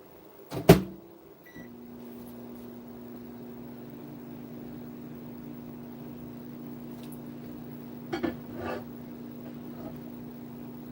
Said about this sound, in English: Now I'm just gonna go microwave this red a little bit.